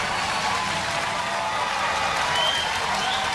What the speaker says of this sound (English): Generous applause.